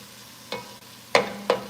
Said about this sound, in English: sauteing these beautiful diced onions here